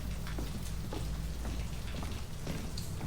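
Steady rain falls in the video game Fatal Frame II: Crimson Butterfly Remake, a constant close hiss of drops over a low rumble, with no voices.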